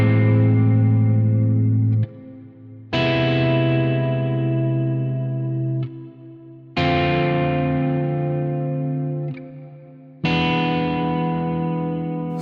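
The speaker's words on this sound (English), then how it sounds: "let me show you some awesome progressions that will get you started with the sound of harmonic minor" Seventh chords in A harmonic minor, played as four sustained chords of about three seconds each, each one struck and left to ring with a rich, effects-coloured tone and no voices.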